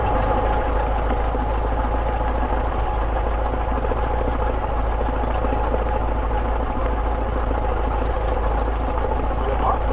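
A small aircraft's piston engine runs steadily right after starting, loud and close with a constant droning rumble and a faint voice underneath.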